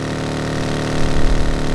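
A vehicle engine in the BGMI video game runs at a steady, loud idle-like drone that swells slightly toward the end, with no talk.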